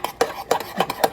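A utensil stirs breadcrumbs in a bowl in quick scraping strokes, about five short rhythmic swishes in a second, close and clear with no talk.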